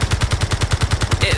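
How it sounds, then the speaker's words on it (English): Rapid automatic gunfire striking an armored vehicle in a Mars escape video game, a steady burst of about a dozen evenly spaced impacts, loud and close, running continuously. "Somebody's getting shot."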